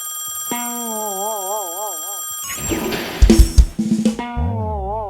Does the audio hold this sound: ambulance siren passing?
no